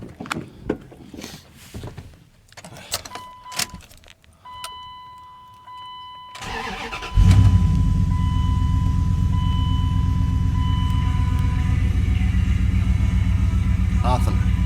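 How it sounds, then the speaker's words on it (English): Dodge Ram pickup truck with high mileage and a P1740 fault: clicks and a brief whine, then the engine cranks and fires into a steady loud idle and rumble, close by. "I'll fire it up and let's cycle it once more and see"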